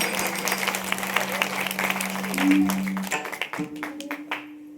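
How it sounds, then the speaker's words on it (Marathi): Applause from an audience at a Marathi devotional kirtan gathering, a broad clapping wash with a steady tone running beneath it, fading into scattered claps toward the end. "सर्वांसाठी एकदा जोरदार टाळी वाजवा"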